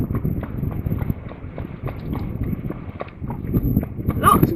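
A cob horse walking out, its hoofbeats forming a steady clip-clop under continuous nearby talk from a rider or instructor.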